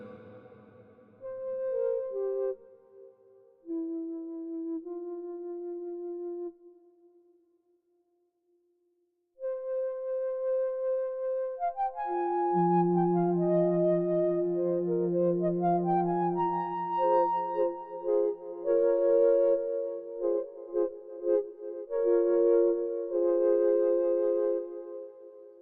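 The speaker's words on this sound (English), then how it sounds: "So I shut down my voice and just play this flute sound. It's very nice with a bit reverb." A Dave Smith Prophet-600 synthesizer plays a soft flute patch with reverb, sustained melodic notes and chords, clean and close with no talking.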